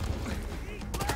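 Gunfire rings out in combat in the video game Wasteland 3, a short, dense, loud burst of shots.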